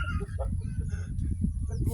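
A chicken clucks repeatedly and close by in the rural countryside, against a rumble of outdoor background noise.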